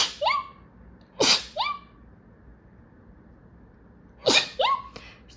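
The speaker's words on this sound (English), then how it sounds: "I'm so sorry because I might sneeze." Two separate sneezes, each a sharp close burst with a quick intake and a short second burst, break a quiet indoor room, with no talk between them.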